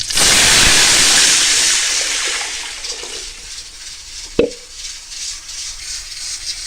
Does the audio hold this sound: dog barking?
no